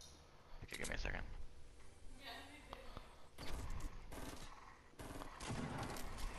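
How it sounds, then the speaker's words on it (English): Rapid bursts of Fortnite battle royale gunfire crackle in uneven volleys, with short pauses between clusters of shots, fairly close and loud. "Are they shooting at you?"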